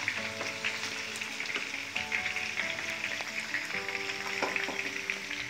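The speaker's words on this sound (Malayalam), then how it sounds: "നമ്മൾ ആ ചിക്കൻ ഉണ്ടാക്കിയ ആ എണ്ണയിലോട്ട് തന്നെ നമുക്ക് ഗരം മസാലയെല്ലാം ഇടാം" Whole garam masala spices frying in oil left over from cooking chicken for a Kerala-style chicken curry, a steady close sizzle with light crackles and a few stirring scrapes.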